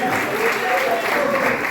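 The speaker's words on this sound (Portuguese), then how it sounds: "todos juntos dê uma salva de palmas, aplauda o Senhor com alegria" Church congregation at a Sunday family service clapping together, a steady wash of many hands applauding with a preacher's voice speaking over it.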